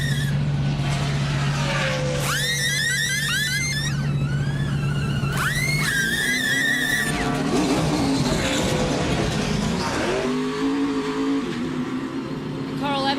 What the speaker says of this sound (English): Kyle Busch gives up 4th place to come down pit road.